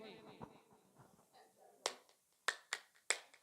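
Sharp hand claps in a forum activity rhythm game: a few scattered claps after murmured talk, then four crisp, fairly close claps in an uneven rhythm.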